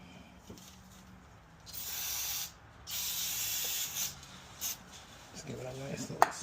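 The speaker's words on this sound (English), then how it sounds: "Let's give it a nice little spray." Aerosol spray hisses in a few short bursts during brake pad replacement on a 2009 Honda CR-V, close and moderately loud, between quieter handling noises.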